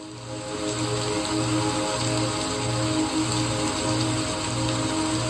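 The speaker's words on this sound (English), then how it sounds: "just like the rain in the background, raining down on you." Rain falls steadily in the background as an even hiss and patter. A low, regularly pulsing mechanical hum runs beneath it, and no one speaks.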